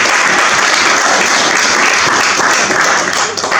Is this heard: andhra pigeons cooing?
no